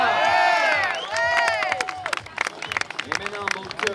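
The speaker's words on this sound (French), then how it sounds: "Les applaudissements, il n'y a pas de langage, c'est international, tout le monde comprend." Outdoor crowd applauding and cheering for a bike trials rider at an event in Sainte-Anne, with shouts and whistles up front, then scattered clapping trailing off.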